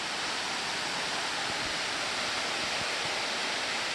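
Water pouring steadily at Copperas Falls, a waterfall beside a green pool with icicles above, a constant full-bodied broadband rush with faint low splashes and no talk.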